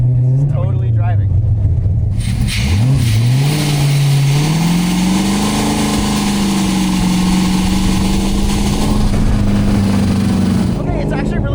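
An LS V8 car running on three lawn mower carburetors drives and revs hard, its engine droning loud and steady close by, with a person talking over it.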